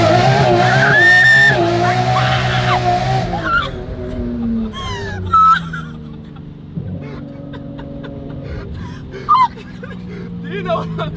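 A 720 hp car doing a burnout, with a loud engine roar and squealing tires that swell and fall, followed by revving bursts, while people talk and react nearby.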